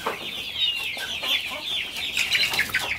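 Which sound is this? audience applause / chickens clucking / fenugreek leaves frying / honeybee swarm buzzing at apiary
chickens clucking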